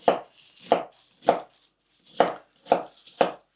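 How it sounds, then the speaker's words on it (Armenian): Six crisp knife chops through sorrel leaves on a cutting board, evenly spaced about half a second apart, close by with quiet pauses between strokes. "Ուրեմն ես ավելուկն եմ կտրատում։"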